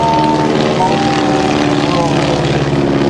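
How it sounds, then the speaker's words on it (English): A propeller airplane drones steadily overhead performing an aerobatic slow roll at an air show, its engine pitch slowly shifting as it maneuvers, loud and continuous. "He's going to just barely roll the airplane."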